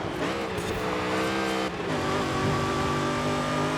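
A 2005 Ford GT races flat out in the Forza Horizon 5 video game, its engine holding a loud, steady, high-revving drone for several seconds with a brief dip in pitch midway.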